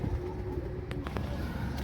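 Pigeons coo close by as they are set out water, soft repeated throaty calls over a steady background hum, with no talk.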